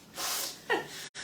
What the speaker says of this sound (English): It is funny how this makes people sneeze.